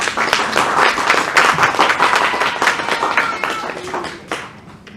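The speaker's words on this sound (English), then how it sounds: "Put a big applause for them." Audience applause for award recipients at a conference ceremony, a dense sustained wash of clapping from a large crowd that gradually thins and fades toward the end.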